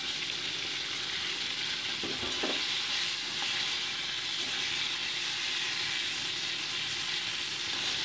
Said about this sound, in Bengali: কড়াইতে সর্ষের তেল গরম বসিয়ে নুন হলুদ মাখানো কপির টুকরোগুলোকে আমি হালকা ভেজে নিয়ে তুলে